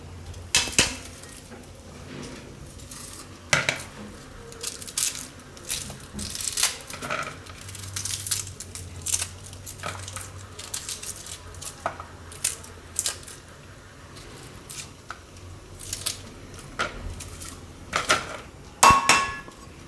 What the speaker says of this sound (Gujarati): ડુંગળી સુધારી લેવું.